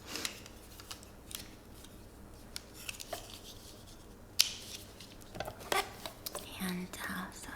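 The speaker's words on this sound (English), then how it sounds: "Oh, I need my knife again. It's taped closed." A knife slicing through packing tape on a cardboard shipping box, giving close, quiet scratchy cuts and soft rustles in short bursts with pauses between them.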